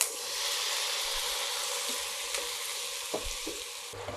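Food fries in rice bran oil in a pan with a steady, close hiss of sizzling, broken near the end by a few soft knocks from stirring, with no talk.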